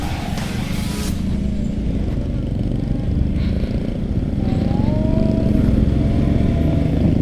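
A Honda CBR motorcycle with its stock exhaust is ridden through Jakarta Timur, its engine a steady, close drone that holds without pause and swells slightly toward the end.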